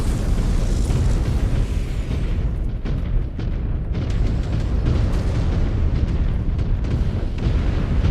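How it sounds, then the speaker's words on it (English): A city being blown up in the video game Mechwarrior 5: Clans: continuous heavy explosions and deep rumbling booms roll on without a break, loud and dense, layered with sharper blasts throughout. "Oh, my clanmates are just blowing up the city."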